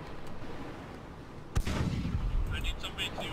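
A ship's cannon in the Blackwake naval combat game fires one sharp, heavy boom that rolls out into a long rumble, over steady background noise and game ambience.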